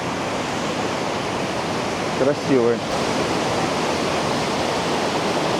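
Loud, steady roar of a waterfall in Dalat, Vietnam fills the scene, with someone briefly speaking over the rushing water.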